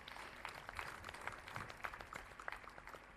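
Applause for a school principal at a valedictory ceremony in Bangalore, a faint, distant patter of many hands clapping steadily throughout, with no voices over it.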